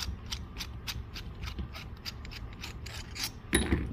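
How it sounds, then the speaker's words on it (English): Ratchet wrench backing a bolt out of a holster mount, a fast run of clicking ratchet strokes close up, ending in a slightly louder metallic clunk, with no one speaking. "you'll see that you can take this bolt out"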